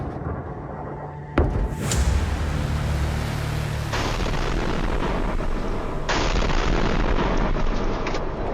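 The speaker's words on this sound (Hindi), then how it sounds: "इजराइल में फटने लगी 1 टन की ईरानी मिसाइल।" Iranian missiles exploding in Israel: a sudden loud blast is followed by a sustained roaring rumble, with further bursts of broadband roar later, heard from a distance.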